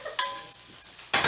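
Creole smoked sausage sizzling as it browns in a pan, a steady close crackling fry with two louder bursts of spatter and stirring at the start and end.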